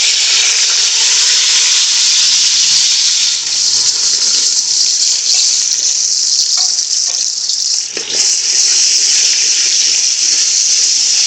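Sliced onions dropped into a cup of heated oil set up a loud, steady sizzling hiss close by, with a brief dip and surge partway through and no voices.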